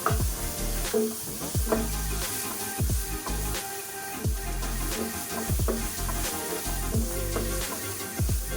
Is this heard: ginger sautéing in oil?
yes